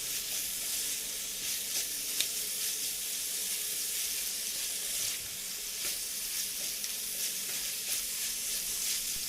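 Chicken in soy sauce with onion leaves sizzles steadily in a pan while being stirred, a continuous soft frying hiss with occasional small clinks, no talking.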